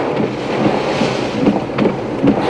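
Strong typhoon wind roars loudly and continuously, buffeting the microphone with repeated gusts and heavy rushing noise, with no voices.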